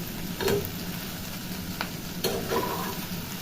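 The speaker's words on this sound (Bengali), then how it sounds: "এরপর আবার খুন্তির সাহায্যে সমস্ত সবজিগুলো ভালো করে মিশিয়ে নেব" A spatula mixes cauliflower stems and other vegetables with turmeric in a pan without water, giving a steady frying hiss broken by a few sharp scrapes and knocks.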